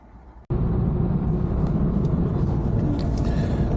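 A car with a suspected rattling muffler drives toward the muffler shop, its road and engine rumble starting abruptly after a brief quieter moment and holding loud and steady.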